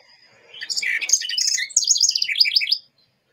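Songbird singing by a front porch, a clear phrase of rapid tweets and trilled notes lasting about two seconds, close and distinct, then silence.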